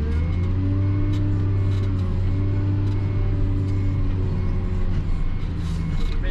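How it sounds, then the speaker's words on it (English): A John Deere 624K wheel loader engine runs steadily at close range while sorting gum and walnut logs, a loud continuous low rumble with a constant drone and slight rises in pitch, with no voices over it. "This is our 624K. I love this wheel loader."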